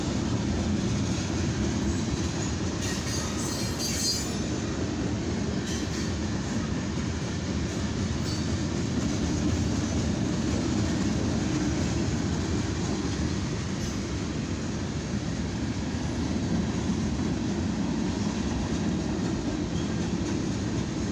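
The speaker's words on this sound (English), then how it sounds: "This is a CSX eastbound mixed freight train." A CSX eastbound mixed freight train passes on the main track heading toward North Baltimore in the evening, a steady loud rumble of wheels and cars rolling by continuously throughout, with no talk.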